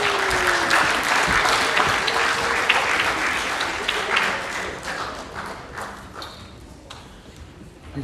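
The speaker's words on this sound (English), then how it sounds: "Ladies and gentlemen, round of applause for our awesome judges tonight." Audience at a Pasifika arts rehearsal event applauding the judges, loud sustained clapping that gradually thins and fades toward the end, with a few louder claps and some murmuring voices.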